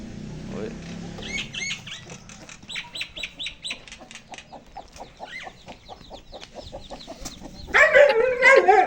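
Chickens clucking in rapid, repeated bursts, with a louder squawking flurry near the end.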